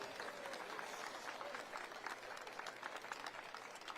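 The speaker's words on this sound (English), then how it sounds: "Raucous applause." Raucous audience applause at a transportation expo event, a dense, steady wash of many hands clapping that fills the whole stretch at close range, with faint crowd murmur mixed in.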